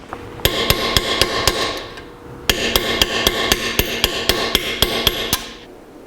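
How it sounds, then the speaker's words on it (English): A hammer strikes a bent washer on a 1982 Jeep CJ7 axle to flatten it, metal-on-metal blows landing in two steady rhythmic runs of about a dozen hits each, separated by a brief pause, with no talking. "So what we have to do is flatten this part of the washer that's bent up."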